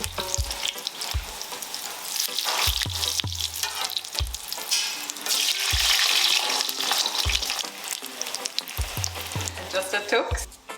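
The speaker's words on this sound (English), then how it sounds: "Fry it for about 3 to 5 minutes on each side, depending on how hot your oil is." Breadfruit tostones fry in hot oil with a loud, continuous crackling sizzle, punctuated by low thumps of the pan and utensils close by.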